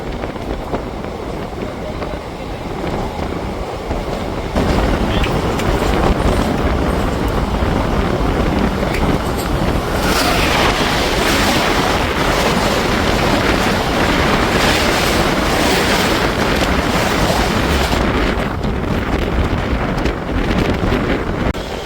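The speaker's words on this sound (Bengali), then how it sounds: "ট্রেন এখন আমাদের এন্টার করছে হলো মল্লারপুর স্টেশন" The Ganadevta Express pulls into Mallarpur station, a broad rushing roar that swells suddenly and stays loud, with heavy wind buffeting the microphone throughout.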